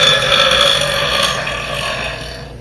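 A girl lets out one long, loud burp that drones for more than two seconds and tapers off slowly, heard alone without talk.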